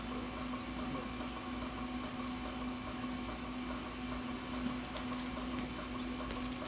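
A compressor running, a steady mechanical hum with a sustained tonal drone and faint rattly noise, constant and even, with no talk.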